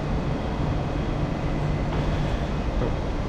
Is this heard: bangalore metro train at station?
yes